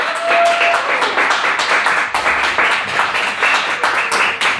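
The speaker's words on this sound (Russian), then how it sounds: "Эти бурные аплодисменты в вашу честь." An audience at the opening event of a new radio station claps and cheers in a dense, continuous burst of applause, loud and close throughout.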